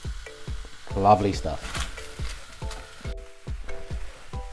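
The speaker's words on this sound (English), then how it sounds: "As you can see, the shallots are starting to caramelize" Shallots and red onion sizzle and caramelize in a pan for a hot sauce, a steady frying hiss broken by repeated low knocks of stirring, with a brief spoken comment over the cooking.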